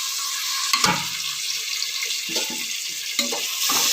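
Tomatoes sautéing for a layer biryani, a steady close sizzle broken by several soft scraping stirs of the pan.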